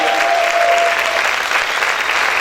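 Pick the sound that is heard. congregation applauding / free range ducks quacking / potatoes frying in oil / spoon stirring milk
congregation applauding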